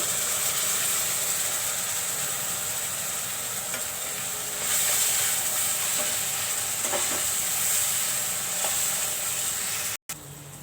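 Spices sizzle loudly in hot oil with onions for a prawn and broad bean tomato dish, a dense crackling hiss that swells partway through, with faint stirring scrapes under it.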